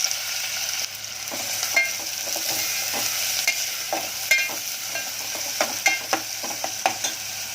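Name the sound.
onion frying in hot oil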